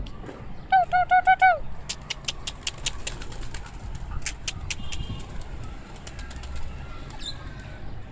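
Pigeons honk and call briefly, then a long stretch of rapid wing flapping and fluttering as the flock flies off, with faint outdoor background noise.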